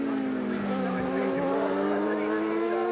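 Suzuki Series race motorcycles at speed on the Cemetery Circuit road course. High-revving engine wail sweeps up and down in pitch, loud and sustained, with a commentator talking underneath.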